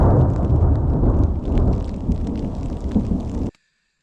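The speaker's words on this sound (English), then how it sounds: "thunder, lightning" Heavy rumbling thunder rolls continuously through a mountain storm in the Wind River range, loud and close, with rain noise mixed in before it cuts off abruptly near the end.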